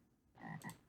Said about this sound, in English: That sounds like a frog.